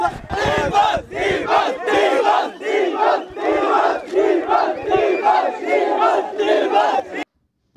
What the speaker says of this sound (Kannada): ಎಲ್ಲರೂ ಕಿರಿಚ್ತಾ ಇದ್ರು ಕೂಗ್ತಾ ಇದ್ರು